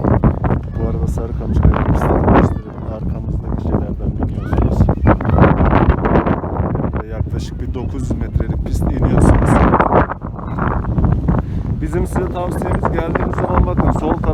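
Strong wind buffets the microphone in a steady low roar on a foggy day at Sarıkamış ski resort in Turkey, while a person speaks over it.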